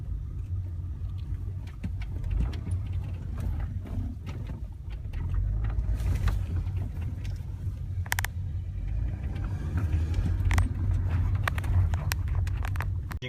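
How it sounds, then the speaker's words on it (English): A cold 2009 Chevy Cobalt engine idles at a steady, low rumble close by, with a continuous drone and slight fluctuations, while no one speaks. "Before driving it, I need to warm up this engine."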